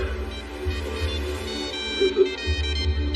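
A phone ringtone plays continuously, a tonal electronic melody with a low droning undertone, fairly loud and close.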